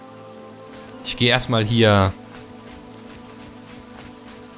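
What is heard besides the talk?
rain falling on stone and sand ground in Nehrim video game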